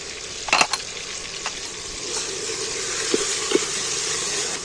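Ginger and garlic paste frying with onions in oil in a pan during mutton curry prep, a steady close sizzle with a few sharp scrapes and clinks of stirring.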